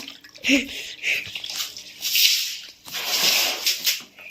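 Water sloshes and splashes across a wet floor during cleaning before Diwali, in uneven bursts of flowing and splashing that run down toward a drain, fairly close and moderately loud.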